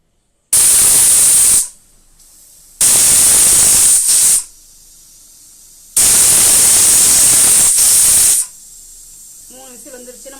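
Loud hissing bursts of a pressure cooker whistle while cooking vegetable pulao on a stove, three long blasts separated by short pauses, close by, with a brief voice at the end.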